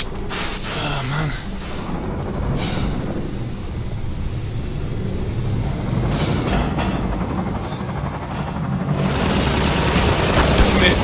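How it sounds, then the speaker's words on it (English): Gunship fire in the video game Half-Life 2, rumbling bursts and booms over continuous loud game noise, ending in a heavy volley, with a person talking. "I'm getting shot in the back by a pesky gunship"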